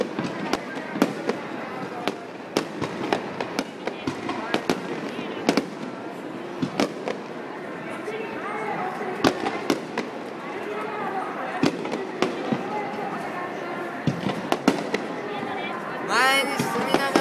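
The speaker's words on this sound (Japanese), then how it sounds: "両方の花火がきれいに見ることができます" Fireworks at the Sumida River display burst repeatedly, sharp booms and crackles arriving at irregular intervals over a steady crowd murmur, with some crackling showers toward the end.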